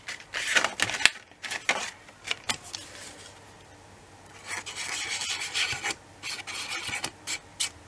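Paper folds being creased for a scrapbook album, with repeated close rasping rubs and scrapes in short uneven strokes, then a longer steady rubbing stretch, no talk.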